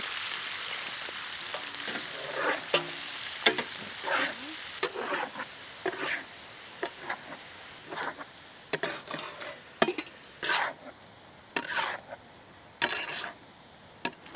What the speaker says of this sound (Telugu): కరివేపాకు యాడ్ చేసిన వెంటనే దీంట్లోనే మనం సన్నగా తరిగిన ఉల్లిపాయ ముక్కలు యాడ్ చేద్దాం.